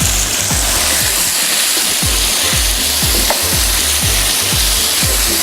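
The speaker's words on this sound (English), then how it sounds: "Can you hear it sizzling?" Marinated chicken sizzles loudly in a hot pan for chicken chow mein, a steady bright frying hiss with repeated low thumps and scrapes as the pieces are stirred, no talking.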